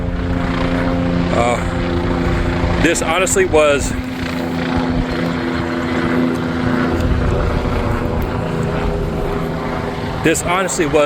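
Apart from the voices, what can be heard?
helicopters flying overhead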